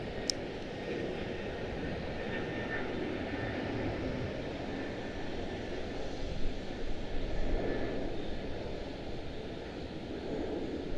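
A jet airplane departing Charlotte Douglas airport roars in a broad, steady rumble for the whole stretch, with no talk.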